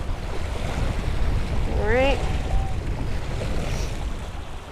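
Choppy sea surf washing steadily onto a beach, a loud continuous rush with wind buffeting close to the microphone, and a brief voice partway through.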